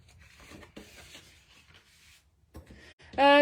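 Quiet rubbing and pressing sounds like paper being folded and creased, close by, ending with a brief louder rustle.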